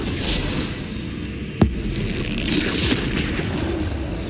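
A Bombarda spell goes off in Hogwarts Legacy as a single sharp blast over a low humming game backdrop, followed by faint rumbling debris.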